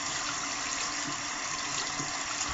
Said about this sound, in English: Doesn't want to rinse off my hands.